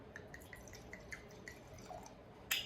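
Red wine, a California red blend, trickles into a glass: a soft series of evenly spaced drips and splashes close by, ending in one brighter splash as the pour finishes, with no voices.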